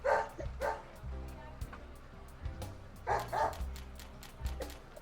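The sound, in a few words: dog Willie barking in video game Deadly Premonition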